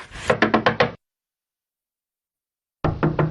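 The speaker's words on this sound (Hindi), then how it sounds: "ये है कौन जो इस तरह दरवाजा पीट रहा है?" Someone pounds on a house door in two loud bursts of rapid heavy knocks, four or five blows each, separated by a couple of seconds of silence.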